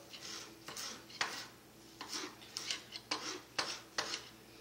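A kitchen knife mincing fresh cilantro on a cutting board for guacamole makes faint, rhythmic chopping taps, about eight or nine sharp knocks in an uneven beat, alone without talk.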